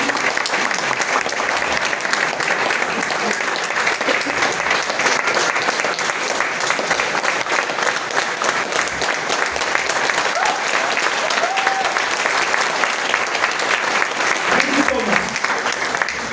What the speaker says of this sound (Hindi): आपकी जोरदार ताली